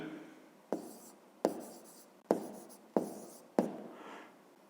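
Numbers are written by hand during a fifth-grade maths exercise: five separate pen strokes tap and scratch at a steady pace, quiet and close, with no talking over them.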